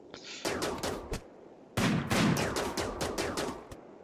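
Rapid gunfire from the RimWorld video game rattles out in two dense volleys of sharp, overlapping shots, loud and continuous with a short pause between them.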